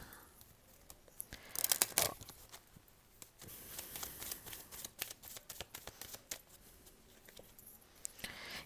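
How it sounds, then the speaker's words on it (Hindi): Tarot cards are shuffled close up in quiet bursts of papery riffling and flicking, with a louder riffle early on and softer shuffling continuing afterward, no voices. "let me shuffle the cards"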